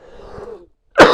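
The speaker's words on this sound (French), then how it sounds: "Je tousse encore, il n'y a rien à faire les amis." A man coughs once, a short loud burst near the end, after a stretch of quieter murmuring sound.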